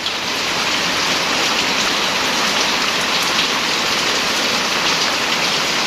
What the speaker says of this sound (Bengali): প্রচণ্ড পরিমাণ বৃষ্টি হচ্ছে গোপালগঞ্জ জেলা, মকসিদপুর থানা